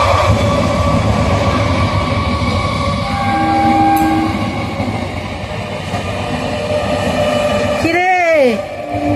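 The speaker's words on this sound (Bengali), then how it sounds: "train train train train," A Canning local train rumbles steadily past at close range, its horn sounding in rising and falling blasts near the end, with voices faintly audible in the background.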